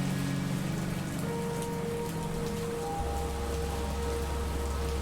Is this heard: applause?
no